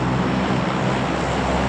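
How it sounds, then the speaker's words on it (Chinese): An old aircraft sound effect from the game Peace Elite, a steady, loud propeller-plane engine drone holding at an even level throughout with no voices. "这是之前的飞机声"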